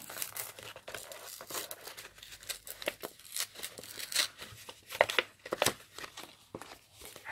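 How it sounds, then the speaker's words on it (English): Paper envelope made from Graphic 45 patterned craft paper being ripped open by hand, close up, with repeated crinkling and tearing bursts over several seconds and no talk. "Oh, do I have to rip it to get up?"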